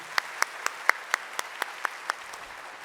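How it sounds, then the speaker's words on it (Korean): Church congregation claps for newly appointed group leaders at a Sunday service, a faint, sparse run of about ten distinct claps at a steady pace, with a quiet room behind them. "세워진 신임 속장님들 위해서 힘차게 박수해 주시기 바랍니다."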